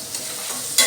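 Onions sautéing with salt in a pan, a brief close burst of continuous sizzling with a soft stir and a sharper scrape right at the end.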